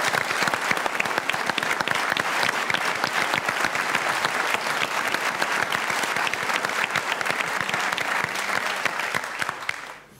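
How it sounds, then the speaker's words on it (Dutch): Loud, dense applause from the audience at a dance-off night in Peel en Maas, steady clapping that fills the whole stretch before fading out at the very end. "Zeker applaus."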